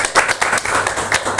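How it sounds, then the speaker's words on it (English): An audience of students in a classroom claps for a classmate who presented, a loud burst of dense, uneven hand claps that continues throughout. "give him a very good clap"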